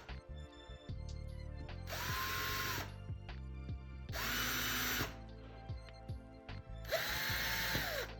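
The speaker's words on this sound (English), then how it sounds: "I'm gonna just keep drilling it." A power drill whirs in three separate bursts of about a second each, with quiet clicks and handling noises between them.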